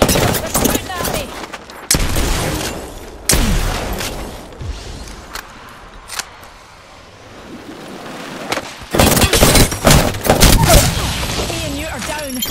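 Gunfire in Apex Legends, loud close bursts of automatic and single shots in clusters with quieter gaps between, mixed with shouted voices.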